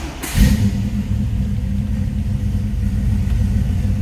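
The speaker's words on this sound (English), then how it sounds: "Let's go ahead and fire this up so you can hear it run." A 1973 Chevrolet Camaro Z28 engine cranks and catches, then settles into a loud, steady, deep-throated idle heard up close.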